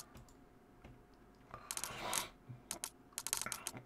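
Keys and mouse buttons clatter quietly during play of the stealth game Thief, with a few sparse taps, then scattered bursts of rapid keystrokes, close and soft.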